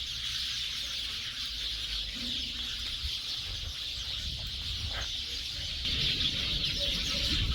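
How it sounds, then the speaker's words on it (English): A flock of small birds fluttering around outdoors keeps up a constant high, busy chattering racket over low rumbling background noise, growing somewhat louder toward the end. "it's a bunch of little birds making that racket"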